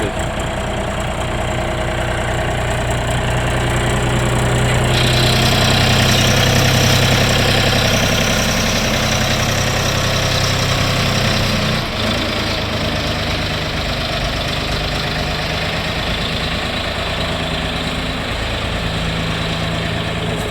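A Shifeng 244CL mini tractor engine runs steadily at idle for the whole stretch, a constant close rumble and rattle with no voices.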